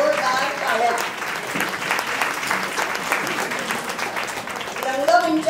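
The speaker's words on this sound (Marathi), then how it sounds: "सर्वांना धन्यवाद आणि जोरदार टाळ्या." Sustained audience applause at a Ramleela stage skit, steady and fairly loud throughout with some cheering voices rising near the end.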